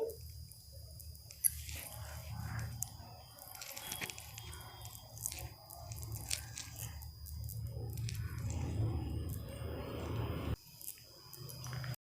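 Wet splashing and dripping as a face is rinsed with water after a dried besan (gram flour) face pack, soft close-up squishes and drips over a low steady background hum.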